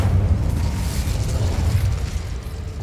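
In Hogwarts Legacy, the Incendio fire spell lets out a burst of flame, a loud, steady roaring whoosh with deep rumbling booms, sustained for a few seconds and gradually easing off.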